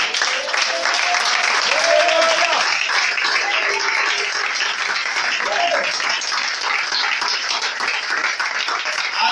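A church congregation applauding to acclaim the Lord, dense sustained clapping from a large crowd with some voices calling out under it.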